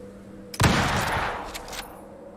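Burst of rifle fire in the survival video game Icarus, set in a polar region: a loud, dense volley of rapid shots lasting over a second, with a couple of sharper cracks near the end before fading.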